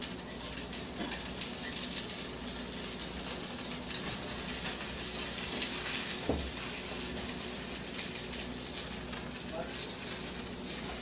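Cherry tomatoes frying in a pan, a steady close hiss and crackle of sizzling oil with scattered small pops as the skins near bursting, while a voice talks over it.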